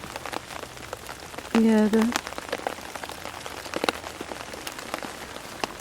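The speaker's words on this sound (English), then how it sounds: "it is raining quite heavily" Heavy rain falls steadily in woodland, a dense patter of drops with sharper individual hits, likely striking a small tarp overhead; a voice speaks briefly partway through.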